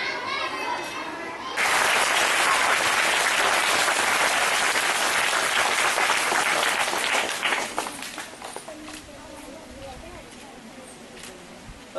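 An audience at a Borkhedi school-supplies distribution event for 1,100 students, run by the Divya Foundation, bursts into loud sustained clapping after a quieter opening, then thins and fades toward the end.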